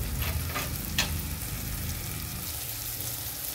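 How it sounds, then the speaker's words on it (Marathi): Red chilli powder and turmeric sizzling in hot oil with tomato and leftover idli in a pan, a dense continuous frying hiss with a few soft stirring scrapes, close and steady. "आपण आता लाल तिखट आणि थोडीशी हळद घेतलेली ते टाकून घेऊ"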